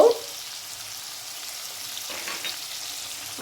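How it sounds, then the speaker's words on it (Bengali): Potatoes and peas frying in a pan with turmeric powder, a soft steady sizzle close by, with a brief clatter at the start and end. "এবার আমি আলু মটরশুঁটি একসঙ্গে ভেজে নেব এর মধ্যে দিয়ে দিচ্ছি একটু হলুদ গুঁড়ো"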